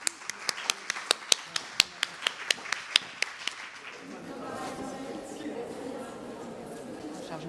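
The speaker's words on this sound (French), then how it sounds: "Et on applaudit Odile, merci Odile." A small audience applauding after a microbial ecology researcher's talk, a few sharp separate claps building into a short run of applause, then giving way to a low murmur of chatter.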